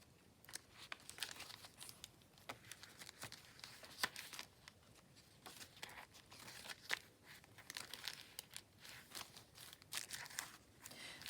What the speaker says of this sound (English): Got some tracing paper in here, so that gives a really nice sound.